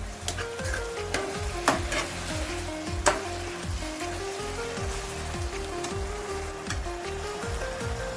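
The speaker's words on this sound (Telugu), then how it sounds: "కొత్తిమీర వేసుకొని ఒకసారి కలుపుకుందాము." Spinach fry with coriander is stirred in a hot pan, a steady close sizzle broken by repeated scraping strokes of the spoon at an even rhythm.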